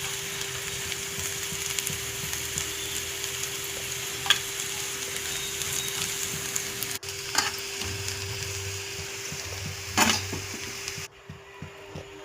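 Tempering seeds frying in a little oil for a bitter gourd (kakarakaya) pachadi, giving a steady close hiss and crackle with a few sharper pops and stirring scrapes, with no talking.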